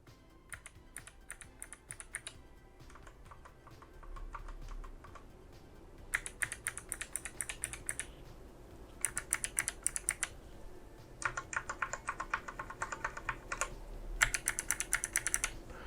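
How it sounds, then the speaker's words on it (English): Steady typing on a Dareu EK87 mechanical keyboard with red switches, bursts of rapid keystrokes broken by short pauses, close and fairly crisp, with no voices. "we have a red switches versus blue switches right here, and that's the first thing we're gonna test"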